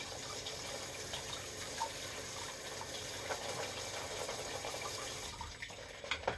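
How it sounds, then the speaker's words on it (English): Tap water runs over canned kidney beans in a colander, a soft, steady stream of rinsing that continues throughout, fairly quiet with no talking. "Just give the kidney beans a bit of a wash. Yeah, under the tap, under a colander."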